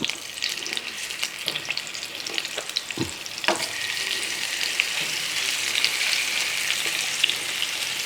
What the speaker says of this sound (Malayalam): 2 കരിയാപ്പില ഇട്ടതിന് ശേഷം നമ്മൾ ഈ മീൻ അങ്ങോട്ട് പിറക്കി അങ്ങോട്ട് ഇടാം.